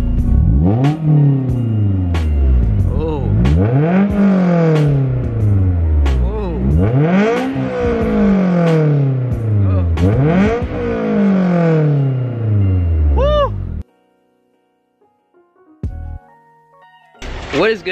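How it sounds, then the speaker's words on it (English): A Honda S2000 engine is revved hard several times, each loud rising rev climbing and falling back in a steady repeating rhythm, close up, before cutting out; brief clatter and faint sounds follow. "Give the car a couple revs."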